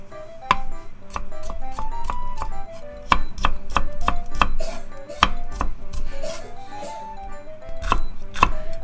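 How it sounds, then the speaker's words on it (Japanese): A knife chops thin slices and strips of carrot on a cutting board, a fast, steady run of crisp close knocks with short pauses between bursts, alone with faint background music. "これ副菜の人参を薄切りをして、 それからね、細切りにするよ"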